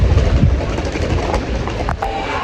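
A Rome metro train rumbles loudly nearby, heavy low roar with rhythmic clacking of wheels on rails and a rising whine of motors.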